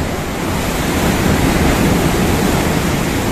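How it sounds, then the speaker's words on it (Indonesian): Ocean waves crash and surge onto the shore in a continuous, loud roar of surf with wind noise, with no break and no voices. "Jadi ini ombaknya medeni wong iki."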